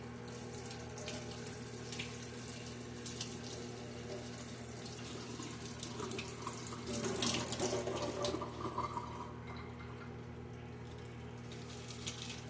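A kitchen tap runs steadily while lettuce is washed under the stream, a constant close splashing rush with a louder surge of water and handling partway through, with no talking.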